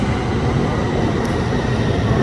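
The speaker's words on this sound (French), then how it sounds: "Le métro arrive ici." A subway train pulls into a metro station in South Korea, a loud, steady low rumble and rolling roar filling the platform without pause.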